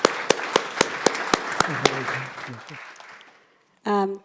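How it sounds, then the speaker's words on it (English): A round of clapping from a conference audience for a discussion panel, a few sharp claps first, then a dense patter that fades away over about three seconds before a voice starts speaking. "A round of applause, please, though, for our panel, ladies and gentlemen."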